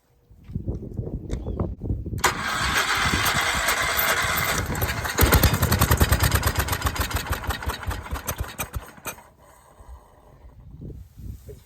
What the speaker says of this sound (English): Starter's not happy either